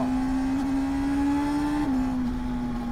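Honda CB 1000R 2024 motorcycle engine held at a steady high rev on the road, a strong continuous whine that dips slightly in pitch near the end, loud and close with no talking.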